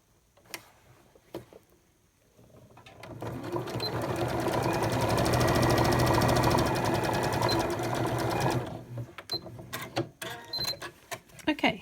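Sewing machine stitching a seam on a pleated face mask, a steady rapid ticking run of about six seconds that swells up and then stops, with a few clicks before and after, close and clear.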